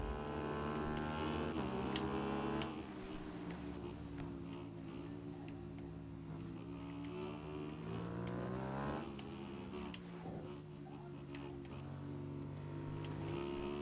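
A Formula Ford 1600 racing at Rudskogen Motorsenter gives a loud, close engine drone with pitch rising and falling through gear changes, as another car draws alongside on the inside.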